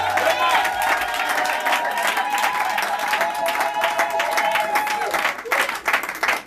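A church congregation applauding loudly for the king during a sermon, dense sustained clapping and crowd noise that fades slightly toward the end.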